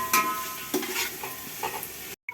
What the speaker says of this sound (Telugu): టమాటా అన్నీ బాగా వేగినాయండి